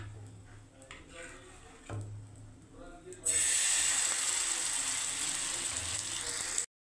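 Mustard oil heating on a griddle over a gas flame, a loud, steady hiss and sizzle that starts abruptly after a quieter stretch of light kitchen clatter and someone talking, then cuts off.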